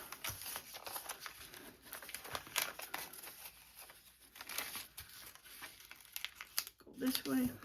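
Sheets of paper crinkle and crease in short bursts as they are folded by hand near the microphone, with a person talking quietly over the rustling.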